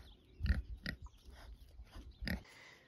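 Pigs on an off-grid farm grunt in a few short, close bursts, with quieter snuffling between them and no talk.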